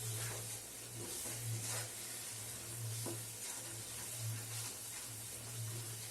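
Masala for palak paneer fries in a pan, giving a constant close sizzle and hiss with faint stirring scrapes over a low steady hum.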